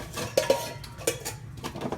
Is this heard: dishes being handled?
yes